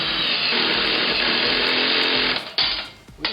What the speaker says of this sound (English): we're just using a drill.